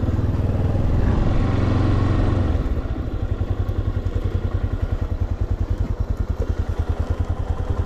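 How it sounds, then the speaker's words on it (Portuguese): A Yamaha Tenere 250 motorcycle engine runs close by in a snowy mountain pass, first a steady loud drone, then settling into a rapid, even idle putter that continues alone to the end. "Vou ter que desligar a moto, não vai ter que fazer."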